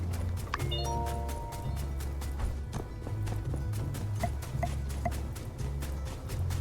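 Horse hooves clip-clop at a steady trotting pace in the video game My Time at Sandrock, mixed with bright chime-like music tones and no voices.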